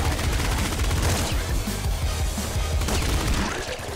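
Rapid popping gunfire from the pop gun in the top-down shooter Nuclear Throne, a dense, continuous fusillade of small shots layered over game effects and music.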